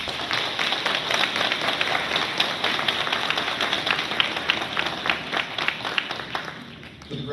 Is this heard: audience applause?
yes